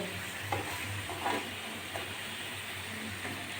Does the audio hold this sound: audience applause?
no